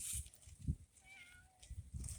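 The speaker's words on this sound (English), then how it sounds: "Meow. Yes, Bastion." A pet cat in a backyard garden gives a couple of soft, close meows, with quiet rustling and faint outdoor background around them.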